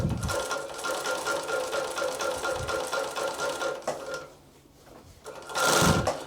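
A heavy-duty industrial cylinder arm walking foot sewing machine, Typical TW3 343D, running below full speed in a steady rapid mechanical chatter, pausing briefly before a short final burst of stitching.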